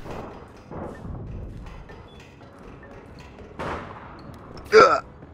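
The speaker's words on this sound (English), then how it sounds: "Yeah, shooting through crates." Gunfire in APB Reloaded punches through crates in a few short, separated bursts, the last one loudest, with muffled voices faintly in the background.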